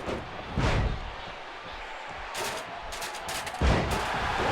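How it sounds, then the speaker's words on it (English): A solid steel ladder thrown into a wrestling ring at a WWE Main Event show lands with a loud metallic bang, followed by more thuds and clatter amid arena crowd noise. "the Celtic Warriors got a solid steel ladder, shoots it into the ring"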